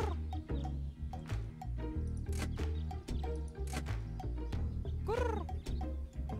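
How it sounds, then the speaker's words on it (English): A bird in the point-and-click game Deponia clucks like a chicken over a looping rhythmic game soundtrack, with repeated short clucks and a rising warble near the end, heard without talk. "I don't know why that bird is making a sound either."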